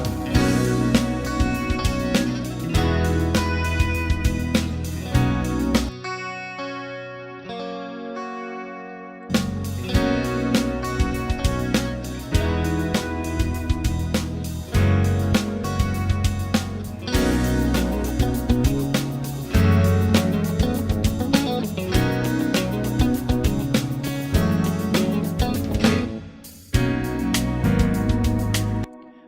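Clean electric guitar strums a chorus section of rhythmic chords, with a brief quieter ringing pause partway through, close and fairly loud.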